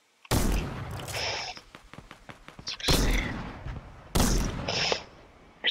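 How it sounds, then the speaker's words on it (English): Gunfire in Fortnite Battle Royale comes in three loud, sharp bursts, the first followed by a rapid string of quicker pops, each burst booming close with brief quieter gaps between. "Someone's shooting all the way up there."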